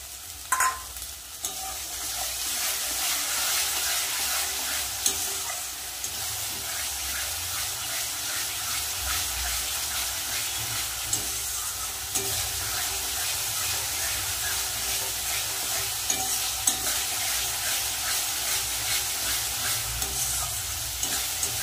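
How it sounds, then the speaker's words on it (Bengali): Cumin, chili powder, turmeric and salt masala for rohu kalia sizzles steadily in hot oil while being stirred, a continuous close frying hiss with scraping stir sounds throughout and no talk. "মশলা কিন্তু ভালো করে কষানো হয়ে গেছে।"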